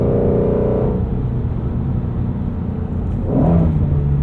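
2016 Ford Mustang Shelby GT350 engine pulling hard in fourth gear around 4,000 RPM, a loud, steady rumbling drone that swells again near the end, heard from inside the cabin.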